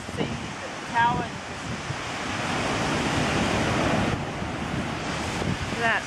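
Ocean waves crash and wash with whitewash and spray along the rocky coast of Niue, a broad continuous roar with surges of surf, heavy wind buffeting the microphone throughout.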